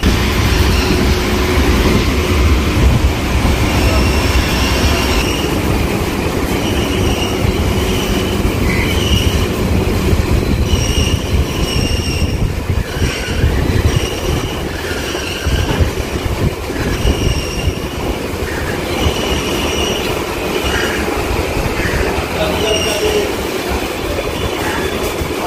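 A Kolkata local train running out of Sealdah, loud and close throughout, with steady rumble, rhythmic wheel clatter and repeated high metallic wheel squeals rising and fading along the run.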